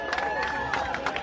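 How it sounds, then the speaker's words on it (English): Applause and cheering from a crowd at a live political rally, dense clapping with scattered whoops, steady and fairly close for about a second. "a round of applause for Rebel News"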